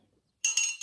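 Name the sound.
reusable stainless steel straw clinking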